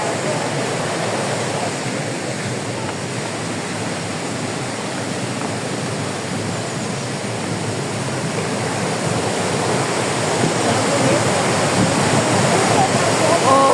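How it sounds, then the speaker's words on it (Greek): A waterfall at the Pozar thermal baths pours with a loud, constant rushing roar, close by and unbroken, and a voice speaks faintly over the water. "Παιδιά, είναι καταράκτη."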